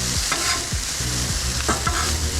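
Broccolini and mushrooms sizzle and fry on a vegan griddle while a utensil stirs and scrapes them in a few rhythmic strokes, the frying starting to burn on the bottom, close and steady.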